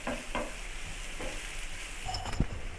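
Chopped vegetables including bell pepper sauté in a pan for Indian-style homemade egg noodles, a soft steady sizzle broken by a few scraping stirs, quiet and close with no talk.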